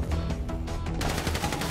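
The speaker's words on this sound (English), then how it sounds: "So I guess we're shooting our way out of here!" Rapid automatic gunfire in a GTA 5 heist shootout, dense overlapping bursts of shots that sound loud and continuous throughout.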